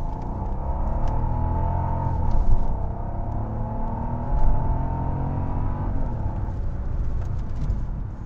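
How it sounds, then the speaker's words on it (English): A 2009 Mercedes-Benz CL65 AMG with a 600-horsepower engine accelerates on a test drive, its engine droning steadily from inside the cabin with two brief surges in revs and a rising whir. "Give it a little gas here."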